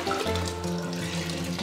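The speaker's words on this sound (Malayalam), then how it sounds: "ആദ്യമായിട്ട് 2 ലിറ്റർ വെള്ളം ഒഴിക്കുക" Water poured steadily into a cooking pot to start a sambar with masoor dal, a continuous close, moderately loud gushing stream without pauses.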